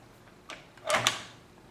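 Latches on a 3-point locking system of an Arctic Tern Wildlands door are worked, giving a soft click followed by two sharp metallic clacks close together, near and clear.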